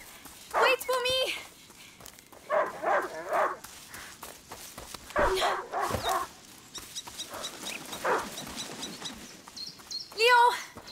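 Leo, a hunting dog in A Plague Tale: Innocence, barks in several sharp bursts at moderate distance, mixed with footsteps and a voice talking.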